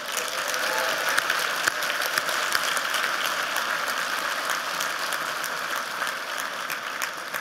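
Guests at the 58th Annual Goddard Memorial Dinner clap for a scholarship recipient, a sustained patter of many hands at moderate loudness with individual sharp claps standing out.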